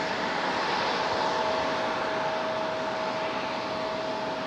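Jet airliner noise at Raleigh Durham airport, a steady broad distant roar with a faint whine, continuous and unbroken throughout.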